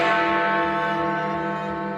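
The Big Ben hour bell in the Elizabeth Tower, a bell first used in 1859 that cracked early on, gives a single loud strike whose rich, ringing hum slowly decays.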